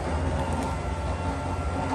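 A Gliderol Genesis garage door opener drives the door along, giving a steady, continuous mechanical rumble and drone that holds without a break at close range, with no one speaking.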